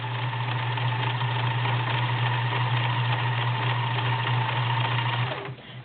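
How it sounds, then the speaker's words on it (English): A vintage convertible Kenmore sewing machine running a stretch zigzag stitch, a loud steady motorized whir with rapid needle clatter held for several seconds before slowing at the end, no talking. "So here's a stretch stitch. You can see it's doing the rick-rack, which is moving back and forth."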